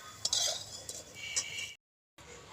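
Potatoes frying in a pan are stirred, bringing a few close metallic scrapes and clinks over a soft sizzle, broken by a brief moment of silence before the frying resumes.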